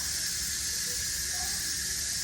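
Steam hisses steadily from a pressure cooker on quick release during cooking, a continuous broadband rush that holds at an even level throughout with no talking.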